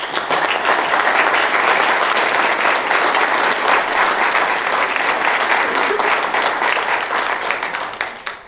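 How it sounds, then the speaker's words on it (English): An audience at a county board political forum applauds, with dense, sustained clapping from a sizeable crowd that stays loud for about eight seconds and then fades out quickly. "Let's give them a round of applause."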